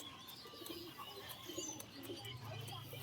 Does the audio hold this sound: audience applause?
no